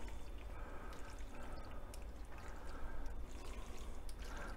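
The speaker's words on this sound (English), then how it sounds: "Sounds like I'm stirring macaroni" A pot of mushroom pasta being stirred, giving a soft, continuous wet churning and sloshing with faint clicks, steady and close, with no talking.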